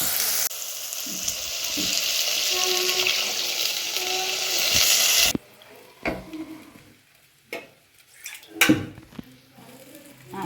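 Coconut paste poured into a tomato curry in a pan for bitter gourd theeyal, a loud steady sizzle for about five seconds that cuts off, followed by sparse stirring clatters and quieter bubbling.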